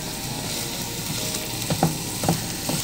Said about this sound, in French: Je laisse revenir un petit peu. On entend le chant des oignons.